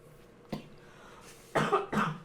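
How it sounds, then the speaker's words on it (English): Two or three close coughs: one short cough, a pause, then a pair of harsher, louder coughs in quick succession. "Besides for your cough."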